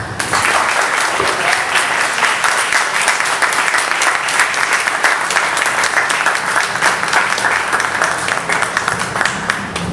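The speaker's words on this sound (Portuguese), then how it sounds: "a salva de palmas nesse momento é para os senhores" Audience applause at a Portuguese-speaking ceremony: a dense, loud, sustained round of clapping from a large crowd, even and unbroken from start to finish.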